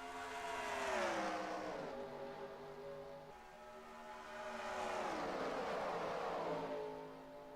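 Race cars roaring around Kentucky in NASCAR Racing 2003 during an ARCA series race, engines sweeping up and down in pitch as a pack passes, loud and continuous with no talking.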